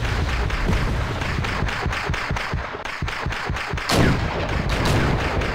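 Mortar fire in the wartime strategy game Wargame: European Escalation: a rapid rhythmic series of loud booming impacts and launches, followed by a larger blast near the end.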